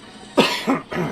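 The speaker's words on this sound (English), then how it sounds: "hopefully I won't do too much coughing" A person coughs three times in quick succession, close and fairly loud.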